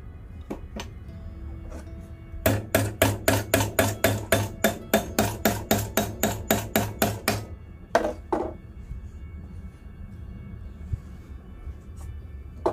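A small metal ring for a homemade pot stand is struck with a hammer, about twenty sharp, evenly spaced clinking blows in a quick close run, followed by a couple of isolated taps.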